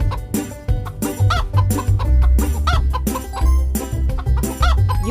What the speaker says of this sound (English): Our hens have scattered all over the garden. Catch them and drag them into the pen.